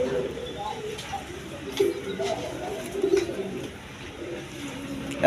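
Large, healthy colored Rajgolla pigeons coo in a few soft, low bursts close by, against a steady background hum, with people's voices in the background.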